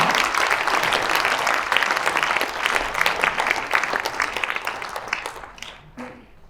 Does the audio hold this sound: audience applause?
yes